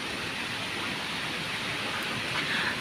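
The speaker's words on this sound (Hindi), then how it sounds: "ये देखो कितनी बारिश हो रही" Heavy rain pours down steadily in the early morning, a dense, even hiss of falling water with no pauses, loud and close throughout.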